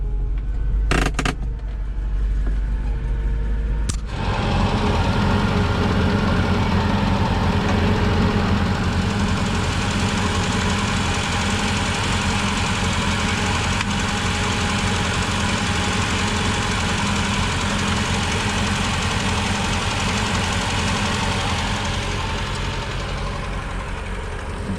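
After a couple of brief bursts, the engine of a vintage 1968 BMW 1602 catches and runs steadily and loudly, a close, rough, continuous drone with a slightly knocking texture that holds for about twenty seconds, with no voices.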